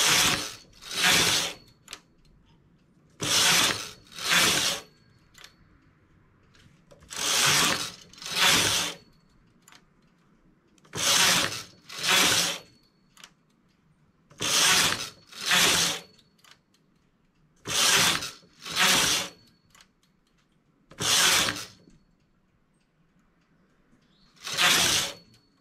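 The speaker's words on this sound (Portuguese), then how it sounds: "Agora, eu vou baixando essas agulhas como eu estava fazendo antes" Needles lowered one after another on a domestic knitting machine while shaping a neckline, sharp mechanical ratcheting bursts arriving in regular pairs with short pauses between, close and clear with no talk.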